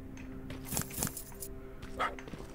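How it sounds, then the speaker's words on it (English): A dog barks a few times in the Terminator Resistance video game, short sharp yips spaced about half a second apart, moderately close over a low ambient hum. "I hear something barking, and I'm trying to actually find your little buddy."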